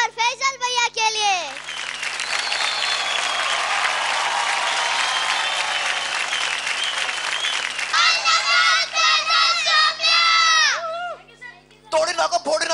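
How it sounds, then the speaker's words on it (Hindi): Loud audience applause and cheering at a kids' dance competition show, a sustained burst of clapping lasting several seconds, with a host's voice speaking before and after. "जोरदार तालियां बजाएं टीम याहू से सौम्य और फैजल भैया के लिए"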